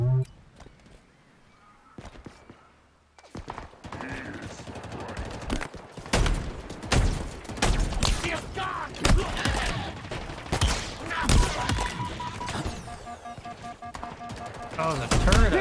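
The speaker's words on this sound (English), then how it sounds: "Oh, the turret up there. I was like, man, what is shooting me?" Turret gunfire in the Halo Infinite campaign: rapid bursts of automatic shots mixed with explosions and game effects, loud and dense through most of the stretch, with a player talking over it.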